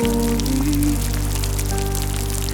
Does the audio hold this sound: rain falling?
yes